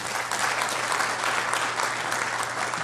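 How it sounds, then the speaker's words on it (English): Applause at a Nigerian American business forum in Tampa, a loud, dense, continuous wash of clapping from a large audience, steady from start to finish. "Please give him a big round of applause."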